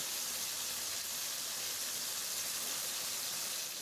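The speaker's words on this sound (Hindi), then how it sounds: "अब एक पैन में तेल गरम करें और फिर इसमें तरतीब से चिकन और सब्जियां लगी हुई स्टिक को रख दें" Chicken and vegetable skewers sizzle in hot oil in a pan, a steady, even hiss that stays at one level throughout with no voices.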